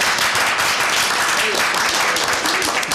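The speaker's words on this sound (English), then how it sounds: "that's a well-deserved round of applause for the people that worked on it" Loud, dense applause from a town select board meeting audience after a unanimous vote, steady and sustained throughout with faint murmuring underneath.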